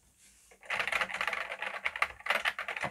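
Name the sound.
typing on a Commodore 64 keyboard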